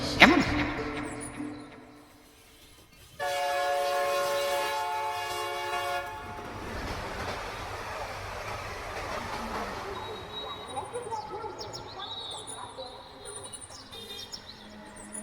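A train rolls past with a loud, sustained horn blast lasting a few seconds, followed by rumbling carriage noise and clatter that gradually fades, played as a sound effect in a village ghost story.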